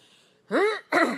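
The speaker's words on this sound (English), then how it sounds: "That was me clearing my throat." A throat being cleared close to the mic, two short raspy bursts after a quiet moment.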